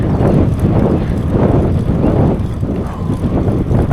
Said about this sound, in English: When you really miss the trees that's standing there blocking the wind